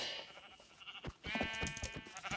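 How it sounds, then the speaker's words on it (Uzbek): Brown sheep in Minecraft let out a couple of bleats, the second a longer wavering cry, loud and close over a faint background. "jigarang qo'ylarni o'ltirib o'zimizga divan qilib olamiz"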